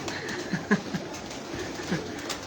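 Pigeons kept by a Punjab pigeon-fancier coo in soft, scattered low calls close by, with a murmur of background noise between them.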